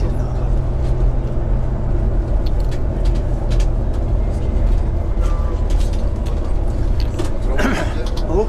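A vehicle driving along a canal bank in Egypt produces a steady engine and road rumble. A voice talks over it, and there are a few faint clicks near the end.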